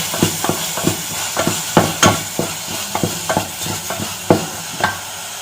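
Shallots and curry leaves sauté in a hot pan for a fish curry, with a steady sizzle broken by repeated sharp scrapes and clacks of a spoon stirring against the metal, close and loud, no talking.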